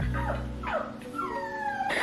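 A puppy whimpers in several drawn-out, wavering whines, close and fairly soft, with a low hum underneath.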